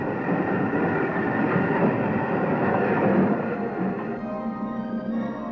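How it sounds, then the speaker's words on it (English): A boat train from London rumbles steadily along the tracks as it arrives at an ocean terminal, a continuous heavy mechanical roar with faint rattling, close by and unbroken. "the boat trains from London arrive at the ocean terminal"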